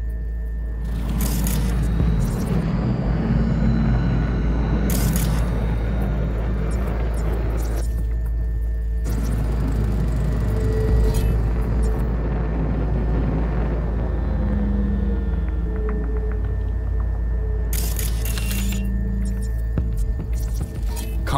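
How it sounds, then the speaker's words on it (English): Combat drones hovering in Cyberpunk 2077 make a steady, throbbing mechanical hum that drones on continuously, broken by a few sharp bursts of noise, with faint game ambience underneath. "Combat drones. Defense systems active."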